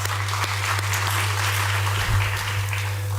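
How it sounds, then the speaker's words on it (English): An audience at an art and culture event applauds the host with a steady patter of clapping over a constant low electrical hum, lasting the whole stretch. "she deserves an applause from us"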